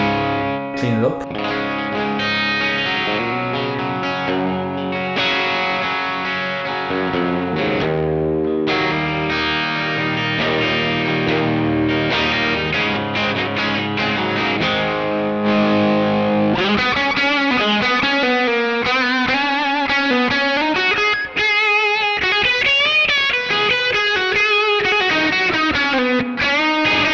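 An electric guitar through a Mooer Preamp Live with a cleaned-up tone, ringing chords giving way to melodic single-note lines, close and continuous for the whole stretch, with no talking.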